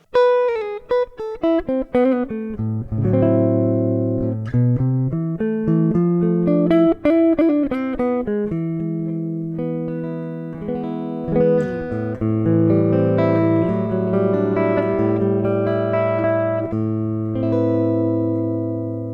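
A Stromberg Hanoverstreet semi-hollow electric guitar on the neck pickup plays warm, rounded melodic phrases and sustained chords, clean and close, with notes ringing into each other.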